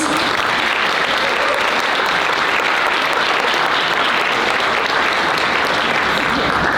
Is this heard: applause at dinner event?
yes